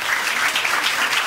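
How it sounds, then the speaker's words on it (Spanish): A congregation at a church wedding ceremony applauds, a dense, steady burst of clapping from many hands filling the room. "Denle un aplauso al Señor."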